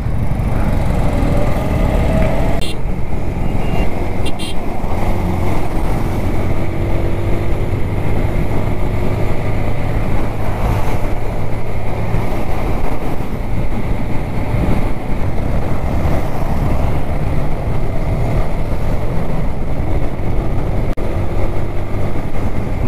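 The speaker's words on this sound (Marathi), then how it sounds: "कारण इथे सर्व ट्रॅफिक आहे खूप सारी." Road traffic heard from a motorbike on the ride from Vikhroli toward Kihim Beach, Alibaug: a loud, continuous engine drone with rushing wind and passing vehicles, a couple of sharp knocks early on, no talking.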